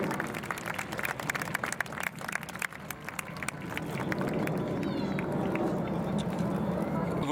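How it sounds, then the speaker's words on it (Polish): Outdoor crowd clapping at the Aerobaltic 2019 airshow at Gdynia Kosakowo airfield, scattered distinct claps at first that fade into a broad steady roar of wind or engine noise, with a voice talking over it. "Wielkie brawa, moi drodzy państwo."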